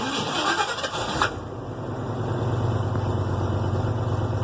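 Ford F350 truck engine with a Flowmaster Pro Series muffler cranking briefly and catching, then settling into a steady, deep exhaust rumble close by, with no talking.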